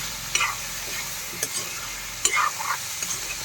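Pork and potatoes fry in a pan with ginger and garlic, giving a steady close sizzle broken by several sharp scraping stirs.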